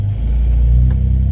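A 1995 Ford F-150 with the 4.9 engine and straight-piped exhaust drives along with a loud, deep, steady exhaust rumble close by, no voices over it.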